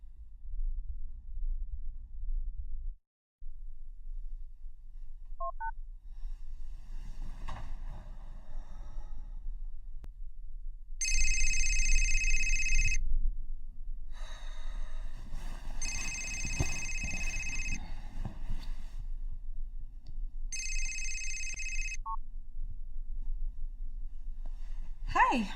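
A telephone on a late-night call rings in a quiet room, several bursts of ringing spaced out, preceded by a few faint tones, with a low hum and no talk over it.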